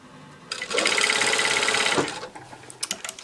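A sewing machine stitches a skirt seam in a rapid, steady run of about one and a half seconds. A few soft handling taps follow.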